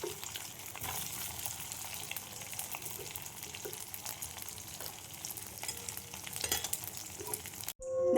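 A batch of soybean chunks fries in hot oil in a pan, giving a steady, fairly quiet sizzle with small crackles throughout and no talk.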